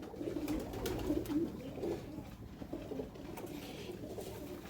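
Pigeons coo in a loft, a steady layered murmur of overlapping low calls that carries on throughout, moderately loud and close, with no talking.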